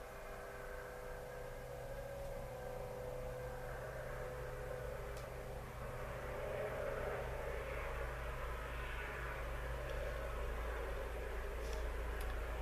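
A steady, low engine roar swells and fades as an airplane passes overhead, continuous and fairly loud with no voices.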